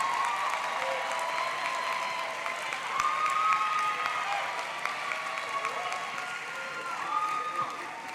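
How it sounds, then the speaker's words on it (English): A large audience at a graduation ceremony breaks into sustained applause, a dense steady roar of clapping that fills the hall for several seconds without letting up. "Let's give them a round of applause."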